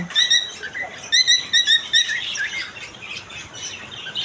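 Caged cockatiels and lovebirds chirp rapidly in repeated high-pitched bursts, close and lively, with a busy aviary chatter behind them.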